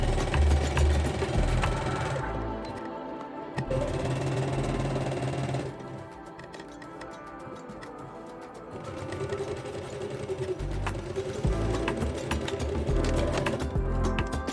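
A sewing machine stitching the crotch seams of wide-leg pants runs in steady mechanical bursts, a close rhythmic whirring with brief pauses between runs and no talk.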